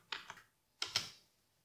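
A few quick keystrokes on a computer keyboard, two small pairs of close, soft clicks separated by a short pause, in an otherwise quiet room.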